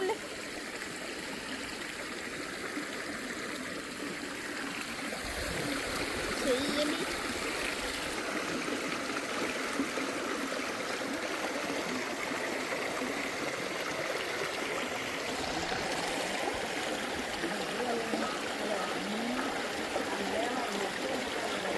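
A stream flows steadily, rushing and babbling, filling the whole stretch with constant water noise, while a few voices are faintly audible.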